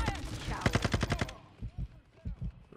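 SAKIN MG38 machine gun from the video game Modern Warfare II firing a rapid burst of about ten loud close shots, then falling quiet while someone talks.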